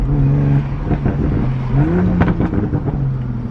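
2020 Toyota Supra fitted with a bigger turbo accelerates hard in third gear with its tires spinning, a loud continuous engine roar with rising and falling pitch sweeps heard from inside.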